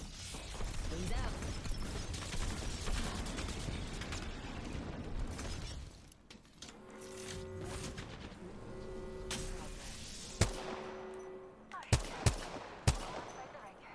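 Gunfire from Apex Legends: a dense burst of shots up front, then a quieter stretch broken by several sharp separate shots near the end, with clicks and mechanical sounds between them.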